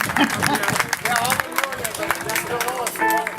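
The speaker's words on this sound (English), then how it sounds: "give them a big round of applause for the many years" Audience clapping and cheering at a farewell concert over a mix of voices, with someone speaking loudly above the applause.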